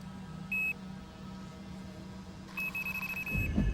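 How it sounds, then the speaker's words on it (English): Electronic bite alarm on a fishing rod set up beside a river, giving a short beep, then a series of rapid repeated beeps, clear over quiet background hum. "My 2 rods are each equipped with an electronic alarm, primed to go off if something makes a grab for the bait."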